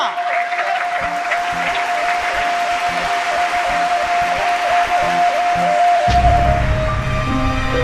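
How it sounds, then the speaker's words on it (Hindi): An audience at a school dance award ceremony breaks into steady, sustained applause, dense clapping under a held musical tone, with a low rhythmic beat entering louder near the end. "जोरदार तालियों से स्वागत कीजिए इनका"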